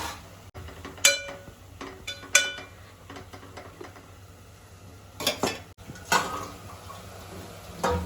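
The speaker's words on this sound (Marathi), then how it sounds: "पाच मिनिटं हलवून झाकून ठेवतो" Intermittent clinks and scrapes of a metal spoon stirring fenugreek greens in a pot, a few sharper knocks spaced apart over a low background hum, with no talking.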